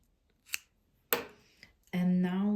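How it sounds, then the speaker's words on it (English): Scissors snip knitting yarn in a couple of short, crisp cuts, close and fairly quiet, followed by a brief voice-like tone at the end. "Now we need to cut our yarn."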